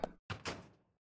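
A door in the video game Deadly Premonition opens with a short sequence of thunks: a sharp knock, then two heavier bumps that fade quickly into silence, close and isolated.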